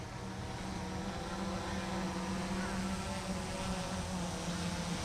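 Autel Evo 2 drone hovering and backing up, a constant whining propeller buzz with a steady hum, moderately close and unbroken, with light outdoor background noise.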